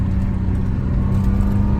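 A 1986 Porsche 911 Euro Carrera engine drones steadily with a low, constant rumble while driving, close and loud with no talk.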